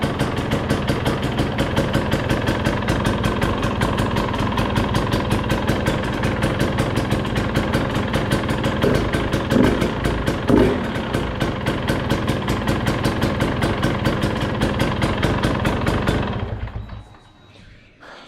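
A KTM/Husky TPI two-stroke motorcycle engine idles steadily with a rapid, even popping pulse, full exhaust fitted and no cold start, loud and close throughout before it cuts off near the end.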